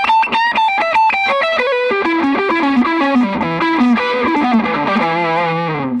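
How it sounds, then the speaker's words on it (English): An electric guitar fitted with a Carvin pickup plays a quick melodic run through heavy distortion. The notes are loud, bright and sustained, and they ring clearly on their own. "That's a lot of distortion, but it's not, it doesn't sound muddy."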